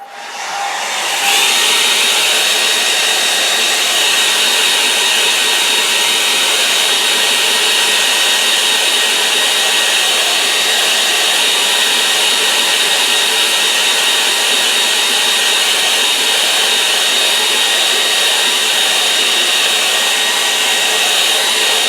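Hair dryer blowing steadily to dry a watercolour painting of an autumn glade made with a hake brush; it switches on after about a second and runs loud and continuous with no talk.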